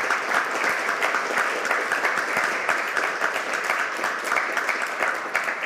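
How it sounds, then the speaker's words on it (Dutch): A large audience at a Dutch lecture event applauds, a dense, sustained clapping that holds steady for several seconds with no voices over it. "Mag je een heel groot applaus."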